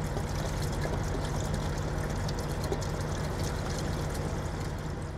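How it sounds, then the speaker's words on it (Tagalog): Close, steady stream of washer fluid glugging into a truck's reservoir, running unbroken for several seconds over a low idling rumble, with no voices. "So maglalagay tayo ng washer fluid, ano."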